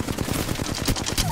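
Rapid bursts of Nemesis energy rifle fire in Apex Legends, a fast rhythmic volley of sharp shots rattling closely and loudly for over a second.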